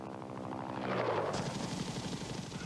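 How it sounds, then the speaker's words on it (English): A UH-1 Huey helicopter's rotor thuds in a rapid, steady chop, loud and close, with a rising whine of turbine noise joining partway through. "For the Army, the basic infantry transport helicopter was the UH-1 Huey."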